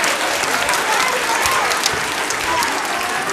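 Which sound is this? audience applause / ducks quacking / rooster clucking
audience applause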